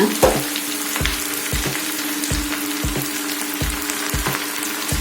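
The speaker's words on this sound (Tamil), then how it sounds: "கொஞ்சம் கொஞ்சமா போட்டு வதக்கிக்கோங்க." Sorrel (gongura) leaves sautéing in a pan with salt, a loud, close, continuous sizzle broken by regular scraping strokes of a spatula roughly every two-thirds of a second.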